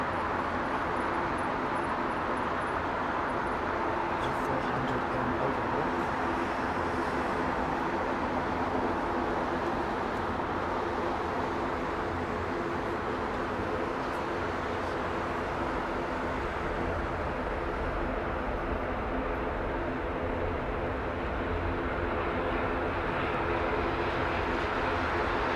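An ATR turboprop airliner in Isle of Man livery at Heathrow Airport, a loud, steady engine roar that holds its level throughout with no pause and no voices.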